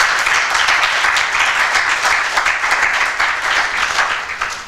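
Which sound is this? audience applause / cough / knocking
audience applause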